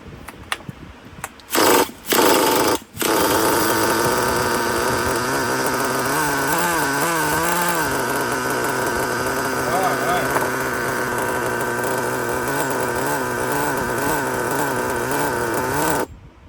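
A nitro RC car engine with pinched sleeves sputters through a couple of short bursts, then catches and holds a loud, steady high-pitched buzzing run up close until it cuts off near the end.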